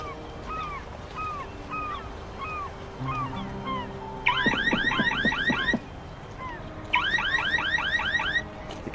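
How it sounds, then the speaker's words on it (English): A convertible's car alarm in the video game Black Mirror II sounds off, its electronic whooping tones cycling in repeated bursts, loud and close over a faint background drone. "The convertible's alarm is going off."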